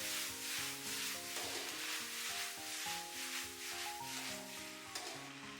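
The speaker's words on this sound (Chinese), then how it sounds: "把肥腸倒回鍋裡，大火快速翻炒30秒，硬生生炒出鍋氣" Fatty pork intestines stir-fried over high heat in a wok with garlic, onion and green and red peppers: a steady, soft sizzle with rhythmic scraping and tossing, heard quietly beneath background music.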